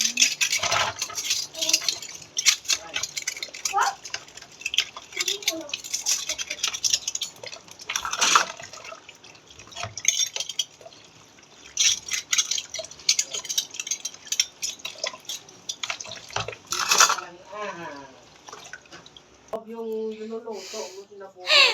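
Running water splashing with dishes and pots clinking as they are rinsed in a kitchen sink, steady and close, with a few louder knocks of cookware throughout.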